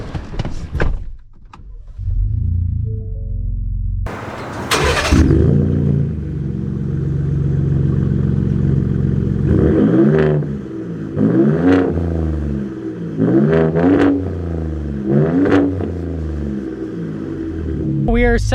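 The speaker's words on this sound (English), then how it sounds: "We are setting off here in this, again, 2018 Gen 2 Raptor with the Race Series Fox shocks" A 2018 Ford Raptor Gen 2 pickup fitted with Fox Race Series shocks sets off after a door thunk, its engine rumbling steadily up close with repeated revving surges as it drives, and a voice talks over it.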